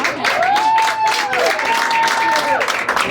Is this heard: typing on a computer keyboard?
no